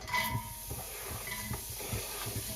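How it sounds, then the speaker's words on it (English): An onion sizzles in a very hot skillet with a steady hiss and small crackles, close by, with no one speaking. "as soon as this onion has hit the skillet, it is sizzling"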